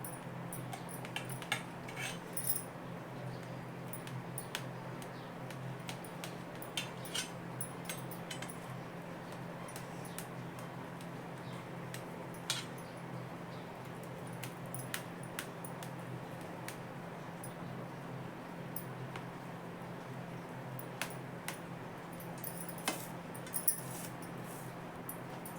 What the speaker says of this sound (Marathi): आता आपण याच्या वड्या पाडूया